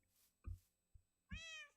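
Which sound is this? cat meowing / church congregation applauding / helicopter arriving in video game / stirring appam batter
cat meowing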